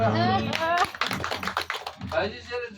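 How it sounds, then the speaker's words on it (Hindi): Audience clapping hands in a short burst of sharp claps, with someone talking just before and after. "एक बार ताली बजा दो"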